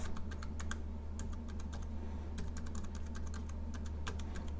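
Typing on an Arteck HB030B universal Bluetooth keyboard whose O key sticks at the corner: quick, light clicks in short irregular bursts, close and fairly faint over a low hum, no talk.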